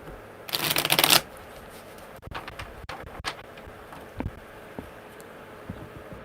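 A brisk riffle of tarot cards being shuffled, followed by scattered light taps and clicks of cards on a desk.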